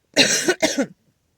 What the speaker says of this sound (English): That cough right there